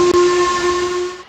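A steam locomotive whistle from the Trainz railway game sounds one long, loud, steady hissing blast that cuts off near the end.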